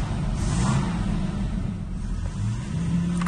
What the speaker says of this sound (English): Engine sounds alright though.